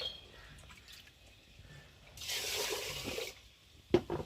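Rice is rinsed under tap water in a home kitchen, giving a soft, faint trickle that swells for about a second of louder running water and then ends in a small splash.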